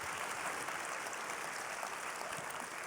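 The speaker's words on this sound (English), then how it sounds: "Round of applause for Chef Sanaa." An audience applauds a chef at a culinary conversation event, with dense, steady clapping at moderate distance and no talking.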